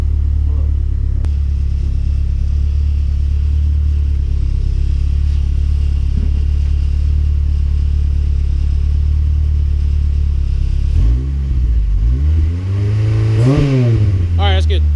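A tuned, turbocharged Acura RSX engine idles with a deep, steady rumble, then revs up sharply several times near the end, the pitch climbing and falling with each burst.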